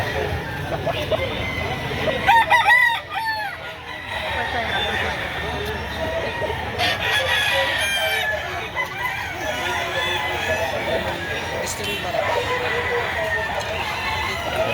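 Gamefowl roosters and stags crow repeatedly at a busy Saturday chicken market in Lipa City, Batangas, with clucking between loud nearby calls and people talking throughout.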